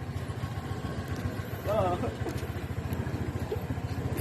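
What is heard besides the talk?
Honda Click version 3 motorcycle engine idling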